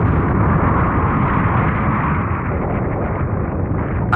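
A deep, continuous roar of explosions from the anime Desert Punk rumbles without pause, dense and loud throughout, with no distinct gaps or voices.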